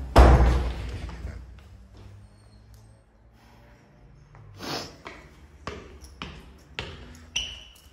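A door slams hard as its latch is torn off in a house, a heavy thump at the start followed by scattered knocks and bangs of varying loudness over several seconds.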